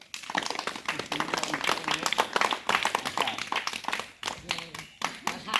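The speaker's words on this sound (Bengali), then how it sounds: "সবাই মিলে হাততালি দাও" A crowd claps together at an Independence Day celebration on a club ground, with a dense stream of irregular hand claps and voices mixed in, briefly dipping near the end.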